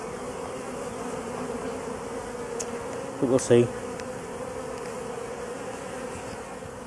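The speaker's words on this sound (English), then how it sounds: "And we've got bees here coming out" Bees buzz steadily around a hive entrance during swarm collection, a continuous low drone with a person briefly speaking over it midway.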